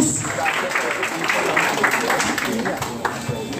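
A neighbourhood-meeting audience applauds for Yusref with a dense, continuous patter of many hands clapping, mixed with crowd voices throughout.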